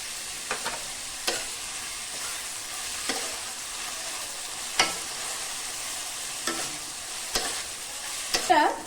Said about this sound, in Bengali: পেঁয়াজ ভাজার সময় আমি এখানে একটু চিনি দিয়ে দিচ্ছি